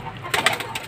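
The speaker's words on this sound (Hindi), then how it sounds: "और ये है जोड़े वाले कबूतर" Paired pet pigeons coo at feeding time, a few soft close murmuring coos over a faint background hum.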